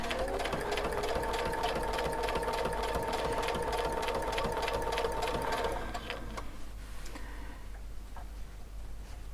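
A sewing machine quilting with metallic thread, a size 12 needle and a template, running in a steady fast mechanical chatter for about six seconds before stopping and leaving quieter clicks and faint background noise.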